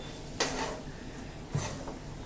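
A lid is lifted off a pan of cooked green chilli and peanut thecha, giving two brief, close metallic clinks about a second apart against a quiet kitchen background.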